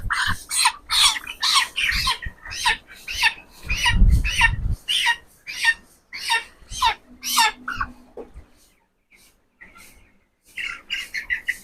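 A young broiler chicken squawking loudly and repeatedly at close range, a fast run of harsh squawks with a brief handling rumble midway, a short pause, then more calls.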